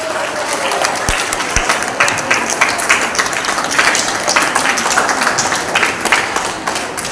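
An audience at a quiz programme at Tihu College breaks into sustained applause, dense overlapping clapping that stays loud and even for several seconds.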